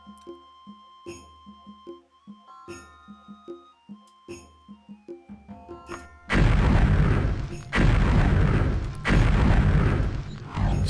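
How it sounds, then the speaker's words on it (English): Fireball spell casts in Daggerfall burst out as loud, dense roaring blasts in three or four long waves, following a quieter stretch of plinking game music. "Someone should have told me how loud the game was when I used my fireball"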